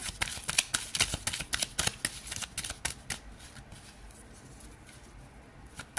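Tarot cards being shuffled by hand, a quick run of crisp riffling flicks that thins out into quieter, sparse rustles, close up with no talking.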